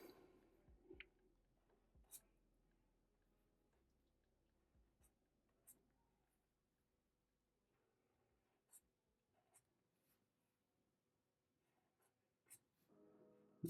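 Pencil strokes on paper while sketching a manga-style anime face, faint scratchy marks in short sparse bursts separated by long quiet gaps.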